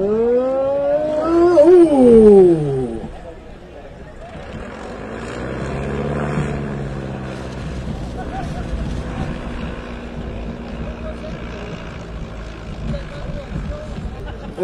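Maule STOL bush plane coming in to land: a loud propeller engine note sweeps down in pitch early on, then a quieter, lower engine drone continues steadily through the rollout.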